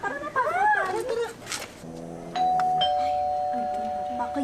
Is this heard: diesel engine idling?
no